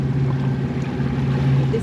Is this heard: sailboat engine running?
yes